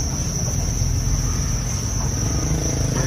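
Thai field crickets kept in boxes on an insect farm chirp in a dense, continuous high trill, loud and close with no pauses and no voices.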